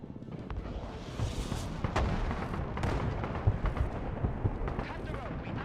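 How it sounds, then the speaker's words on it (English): Artillery fire in the video game Broken Arrow, with repeated heavy booms and bursts layered over a rumbling battle bed, loud and continuous, with in-game voices mixed in. "We'll also be able to put down allied artillery at key points"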